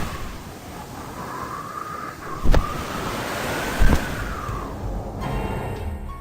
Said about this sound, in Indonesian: Hantaman ombak dari depan, dari kanan, dan kirinya semakin kencang